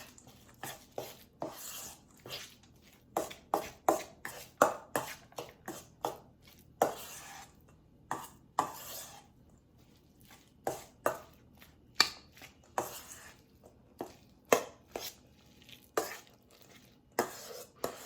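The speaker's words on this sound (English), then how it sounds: "I'm gonna stir that up." A cheese mixture stirred in a bowl, a steady run of sharp scraping and knocking strokes from the utensil against the bowl, close and fairly quiet, repeating in an irregular rhythm.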